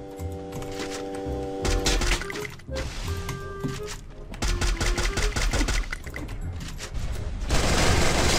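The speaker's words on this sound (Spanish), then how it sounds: "Vale, vamos a disparar al aire, güey." Gunfire in the shooter game Free Fire comes as dense, loud bursts of rapid shots, broken by brief lulls and ending in a heavy sustained volley.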